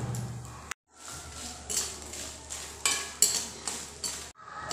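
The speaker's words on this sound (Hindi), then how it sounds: "तो चलिए अब हम एक कप मखाना को फ्राई कर लेते हैं।" Fox nuts (makhana) frying in a pan over a low to medium flame, a soft sizzle broken by repeated clinks and scrapes of a spoon stirring against the pan, close and moderately quiet.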